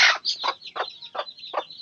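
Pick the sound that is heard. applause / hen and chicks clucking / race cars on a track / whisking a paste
hen and chicks clucking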